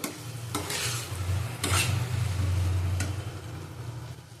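Prawns and taro in a curry being stirred and sautéed in a pan, with steady frying sizzle and a few scraping spoon strokes against the pan, close and continuous.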